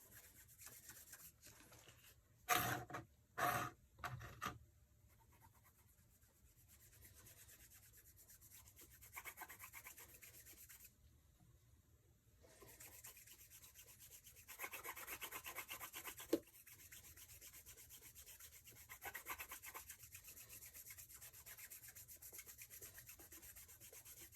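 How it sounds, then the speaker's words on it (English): A leather shoe being burnished by rubbing with water, a soft close scrubbing and rasping that comes in short bursts and longer stretches, faint overall with a few sharper strokes early on and no speech. "You're kind of burnishing it, to borrow a leather term, burnishing it into the leather."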